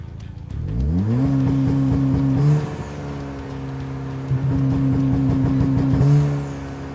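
Ford Focus or Fiesta ST engine holding a steady rev against a launch-control limiter set through a Cobb Accessport, loud and close, with a rising rev then a flat droning hold and brief bumps, no talking.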